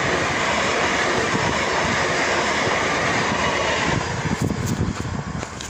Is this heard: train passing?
yes